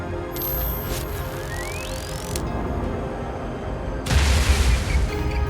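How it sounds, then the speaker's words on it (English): A nearby explosion in Encodya lands as a sudden loud, rumbling burst after a quieter stretch of ambient tones and a rising whistle, the blast's roar lingering for over a second. "I'm afraid this caused an explosion somewhere nearby."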